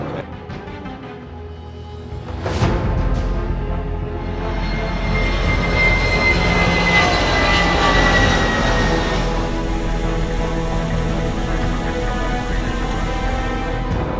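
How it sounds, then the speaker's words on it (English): Steady, loud engine roar inside a Malaysia Airlines airliner cabin in flight from Kuala Lumpur to Beirut's Rafiq Hariri Airport, with a brief knock early on before the drone swells slightly and holds, no voices. "We are flying from Kuala Lumpur right up to Rafiq Hariri Airport."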